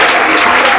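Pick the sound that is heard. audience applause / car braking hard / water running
audience applause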